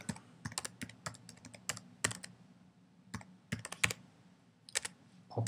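An email address is typed on a computer keyboard: a quiet, uneven run of close key clicks with short pauses between groups, alone with no talking.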